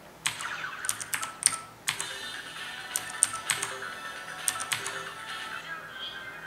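Keys clacking on an Aula Mechanical Demon King mechanical keyboard during gaming: close, crisp bursts of clicks in irregular clusters with short pauses between them, fading to quiet near the end, with no talking.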